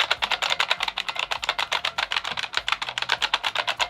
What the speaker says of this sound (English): And these keys, listen, I don't know if you can hear this.